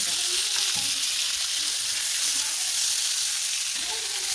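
Mustard seeds and onion fry in hot oil in a pan for a Badi Dabaka dish, a loud continuous sizzle with stirring scrapes throughout, no talking over it.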